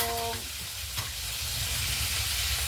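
An egg frying in a pan for a simple breakfast, giving a steady close sizzle and crackle that runs throughout with no talk.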